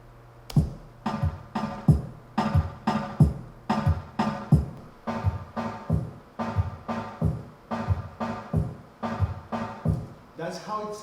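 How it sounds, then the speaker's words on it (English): A reggaeton beat with kick drums and percussion hitting together in a steady, bouncing pattern, loud and punchy, with a brief extra sound at the very end. "the percussion and the kicks, it will sound like this"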